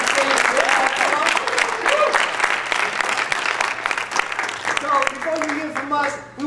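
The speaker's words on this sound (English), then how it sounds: "Please give a big round of applause to everybody." Audience applause at a Left Forum poetry evening in a black box theater, steady clapping from a crowd with voices and whoops mixed in, loud and close throughout, easing slightly near the end.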